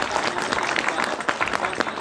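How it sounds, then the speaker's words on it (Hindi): Audience applause at a memorial gathering, a brief, dense burst of many hands clapping that holds steady at moderate volume for about two seconds. "कैप्टन दीवान सिंह बल्दिया, एक बार जोरदार तालियों से"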